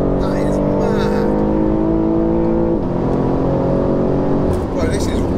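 A stage 2 tuned 700 bhp BMW G80 M3 pulls hard in fourth gear, its engine droning loud and steady from inside the cabin with a rising tone and a brief dip as the revs shift. Voices are faintly audible.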